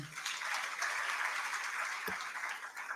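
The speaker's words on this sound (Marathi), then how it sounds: "खूप जोरात टाळ्या" Audience applause at a youth parliament event on women in politics, a sustained clapping from a crowd heard at moderate distance and fairly quiet.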